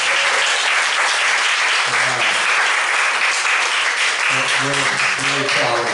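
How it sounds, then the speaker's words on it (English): Dense, steady audience applause fills a museum event hall without a break, with a voice briefly audible over the clapping. "let's give them a big round of applause"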